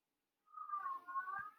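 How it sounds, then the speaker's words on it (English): A domestic cat caterwauling indoors, one drawn-out wavering yowl that rises out of silence and carries on at moderate volume, heard alone. "My cat is caterwauling in the background"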